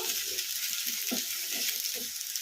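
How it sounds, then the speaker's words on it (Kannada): Brinjal frying on a high flame, a steady close hiss and sizzle running the whole time with soft stirring bumps beneath it. "2 ನಿಮಿಷ ಆಗಿದೆ ಹೈ ಫ್ಲೇಮಲ್ಲಿ ಫ್ರೈ ಮಾಡೋಕ್ಕೆ"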